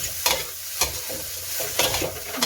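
Fried rice with crispy pork being stir-fried in a wok, with a spatula scraping the pan in about five quick, regular strokes over a steady hissing sizzle, close and clear.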